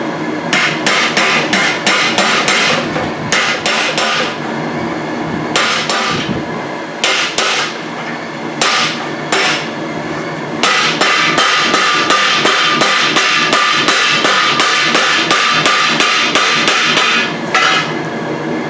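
Blacksmith's hammer strikes a blunt punch on hot iron while forging tongs, ringing metallic blows in quick repeated bursts with short pauses, loud and close throughout.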